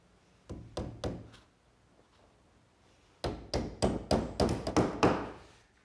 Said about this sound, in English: And I'll fasten it with these little 5-penny box nails.